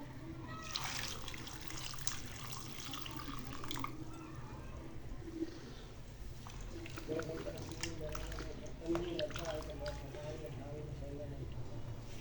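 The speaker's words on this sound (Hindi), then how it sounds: "अब इनको धो के अच्छी तरह खुश कर लेते हैं।" Cut potato chips for masala fries are washed in water, with splashing, sloshing and trickling close by and a voice heard at times.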